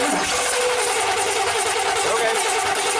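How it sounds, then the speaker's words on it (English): A 1987 GMC plow truck's V8 cranks over steadily for a few seconds, the starter whirring loud and continuous, up close in a garage. "Here, crank it over for me. We'll see if it's firing here. Just crank it for like 5 seconds"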